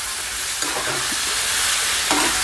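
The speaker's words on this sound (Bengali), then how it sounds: "দেখুন এটা অল্প ভাজা হচ্ছে" Spices with a little turmeric powder fry gently over low gas in a pan. A constant close hiss runs throughout, with a few soft scrapes of stirring and no speech.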